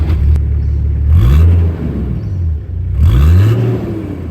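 A 27-year-old Toyota Land Cruiser fitted with a new turbo and a 2.5-inch exhaust, revved loudly close up twice, each time climbing in pitch and settling back to a deep rumbling idle.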